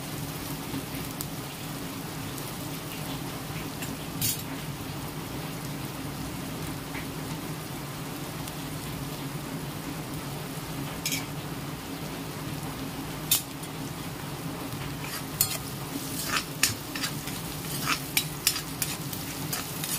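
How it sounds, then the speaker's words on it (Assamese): Chopped onions frying steadily in a pan, a constant soft sizzle with occasional stirring clicks and scrapes that grow more frequent toward the end, with no voices. "পিঁয়াজখিনি এতিয়া অলপ সিজি লোৱালৈকে অলপ ভাজি থাকিম"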